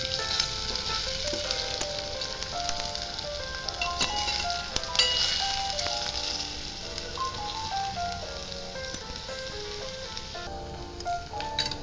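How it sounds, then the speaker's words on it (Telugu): Potato pieces fry for jowar upma, a soft continuous sizzle in a pan heard under steady background music. "ముక్కలు బాగా వేగేలాగా వేయించుకోవాలండి"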